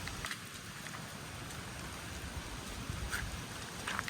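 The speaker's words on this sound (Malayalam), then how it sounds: "നമ്മള് നല്ല മഴയിട്ട് ഇവിടെ ഒരു രക്ഷയില്ലാത്ത മഴയാണ്" Heavy rain pours at Vythiri waterfall in Wayanad, a faint, even hiss of falling water with scattered drop patters and no speech.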